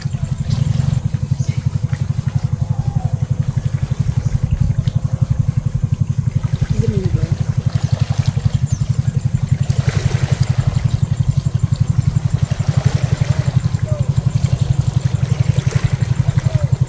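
A boat engine chugs steadily and loudly nearby, a constant low pulsing drone, with a brief spoken word heard over it.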